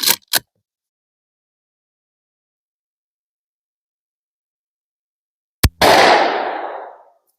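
Shots are fired from a Romanian PSL rifle at a 1-inch-thick square steel plate: two sharp cracks at the start, silence, then another crack followed by a long rolling echo that slowly fades.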